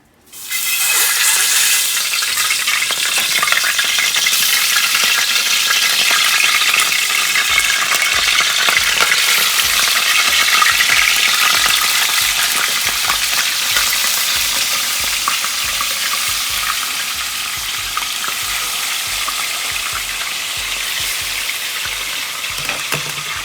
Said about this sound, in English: we're going to add it to the pot with the rest of the garlic and onions.